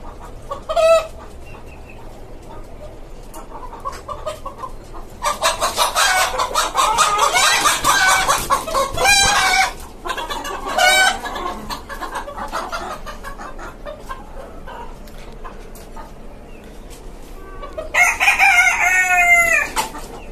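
Several roosters, including a white one, on a caged rooftop chicken farm cluck and crow repeatedly, with a long burst of overlapping calls early on and a final loud crow near the end, close and clear.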